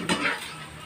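A spoon stirs anchovies in a pan in a brief, close scraping clatter of metal against the pan, lasting under a second.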